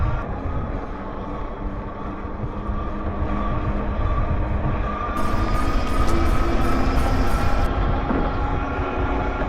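A PuckiPuppy Golden R Pro 1600W dual-motor electric scooter climbs a hill under throttle, a loud, continuous rush of wind and road rumble with a steady motor whine that grows slightly stronger partway through.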